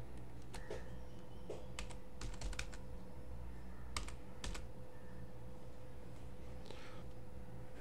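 Scattered clusters of computer keyboard keystrokes in irregular bursts, fairly quiet over a steady low room hum, with no talking.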